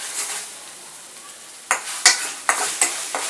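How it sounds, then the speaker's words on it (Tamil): Egg being stirred continuously in a frying pan while scrambling, a faint sizzle followed by a run of five quick scraping strokes of a utensil against the pan. "இந்த மாதிரி கண்டினியூஸாக கிண்டிக்கிட்டே"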